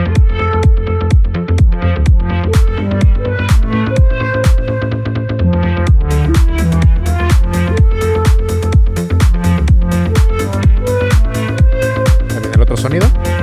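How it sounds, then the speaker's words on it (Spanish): Techno lead synthesizer patch built in Vital, playing a loud, punchy repeating riff of bright buzzy stabs over a steady four-on-the-floor kick, with no talk. "Esto está hecho con un sintetizador."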